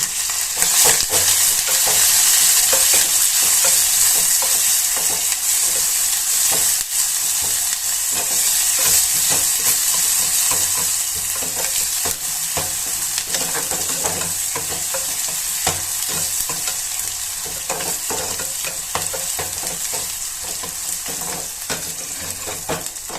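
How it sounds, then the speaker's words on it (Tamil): Finely chopped onions with green chilli and curry leaves sizzle and fry steadily in a pan for a Tamil brinjal curry, a continuous loud crackle with occasional stirring scrapes and no voices. "ஸோ வெங்காயம் வதங்கிடுச்சு."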